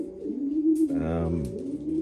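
Pigeons coo close by inside a pigeon racing loft, low throaty burbling calls rising and falling, with a soft flutter of movement in between.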